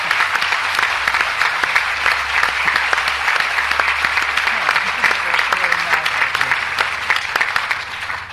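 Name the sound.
audience applause for prize winner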